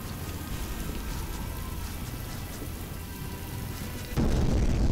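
Steady rain in the video game Call of Cthulhu: Dark Corners of the Earth pours down evenly, a dense hiss of drops that swells louder and heavier near the end.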